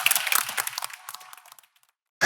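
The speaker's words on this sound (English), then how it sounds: "Clap it up for yourself, y'all." An audience applauding and clapping for themselves after a rousing recession-proof chant at a Black Millionaire Masterminds business talk, a dense burst of claps that thins out and fades to silence.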